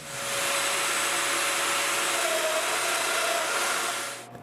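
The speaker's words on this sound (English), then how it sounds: "And just like I did the last time, I drilled them." A power drill bores mortises in a workbench part, giving one continuous loud whirring burst of about four seconds close by that then cuts off, with no talk.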